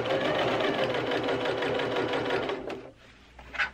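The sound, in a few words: sewing machine stitching a circle skirt hem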